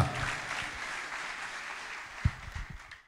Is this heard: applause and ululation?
yes